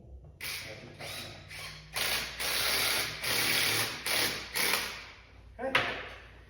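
Ratcheting and mechanical clicking in rapid bursts while a hose clamp is tightened on a thermostat hose during a C3 thermostat install, close and fairly loud.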